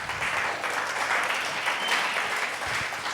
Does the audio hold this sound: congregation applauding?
yes